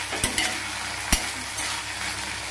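Brinjal curry tempering being stirred in a pan on a low flame, a soft continuous sizzle broken by a few sharp scraping stirs of the spoon against the pan, close and moderately quiet with no talking.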